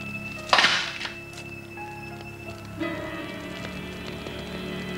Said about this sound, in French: Je jette l'arme.